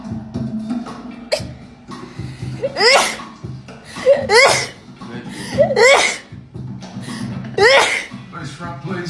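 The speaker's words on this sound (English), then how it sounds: "Sneezing disorder." A woman sneezes again and again in a quick run of sharp, high bursts, at least five in a row, with gasps and small voiced sounds in between.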